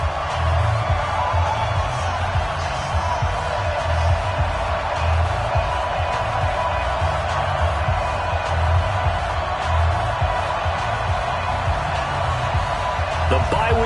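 Football stadium crowd in a video game match between the Washington Redskins and Philadelphia Eagles, a steady roaring crowd bed throughout under a commentator's voice.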